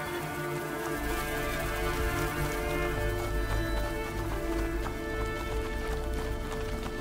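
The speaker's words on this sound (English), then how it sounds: "Oh, the horse." Horse hooves clip-clop over a dense, continuous game soundscape in A Plague Tale: Innocence, the steady hoofbeats blending with rain-like texture and a low ambient drone throughout.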